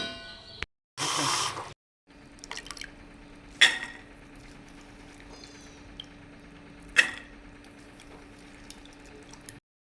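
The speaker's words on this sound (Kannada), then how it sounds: "ಈಗ ಕಡಲೆಕಾಳನ್ನು ತೊಳ್ಕೊಬೇಕು ಮೊಳಕೆ ಕಟ್ಟಾದಮೇಲೆ ಒಂದು ಸಲ ತೊಳ್ಕೊತೀನಿ" Sprouted chickpeas being washed in water in a home kitchen: a brief splashing rush early on, then scattered drips and small watery clinks over a quiet hum.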